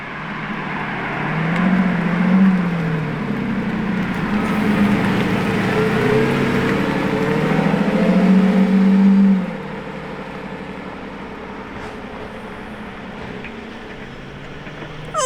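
A yellow Lamborghini Revuelto with a hybrid V12 passes outside the factory, its engine swelling and rising in pitch over several seconds, then dropping away quickly and fading into quieter background noise.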